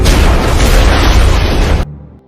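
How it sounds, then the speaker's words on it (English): A loud, roaring bomb explosion in a city fills the air with a dense rumbling blast that cuts off abruptly, leaving near silence. "an explosion erupts in the city"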